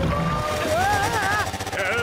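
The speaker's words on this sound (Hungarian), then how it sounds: "A folyón menekülnek egy motoros kádban?" A motorized bathtub speeding along a river in a cartoon chase, with a steady engine-like drone over splashing water and rising, wavering tones beneath overlapping talk.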